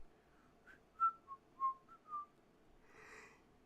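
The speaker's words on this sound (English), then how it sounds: "I probably shouldn't whistle directly into the microphone." Someone whistles a few short, clear notes close to the microphone, in a quiet room with soft background hiss, then a brief breathy rustle follows.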